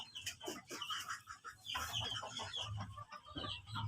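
Several village chickens cluck and squawk in busy overlapping bursts, close by inside a coop, with a low rumble underneath and no talking.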